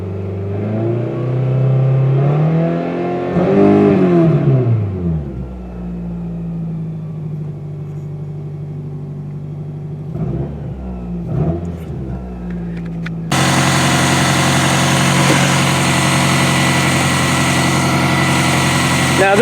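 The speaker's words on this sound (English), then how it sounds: "look at this thing idle. Give it some gas. It sounds like there's a dead cylinder" A Toyota Camry four-cylinder demolition derby car engine idles roughly as if on a dead cylinder, then revs up and falls back, followed by a steady, louder engine drone with brief clunks before it.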